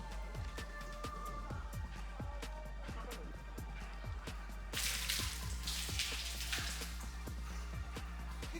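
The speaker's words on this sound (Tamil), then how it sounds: "கழுவ போறோம், பெனங்காய கழுவ போறோம்." Palmyra fruits being washed in water, heard as faint scattered drips and splashes under a steady low hum, with a brief burst of louder rushing water near the middle.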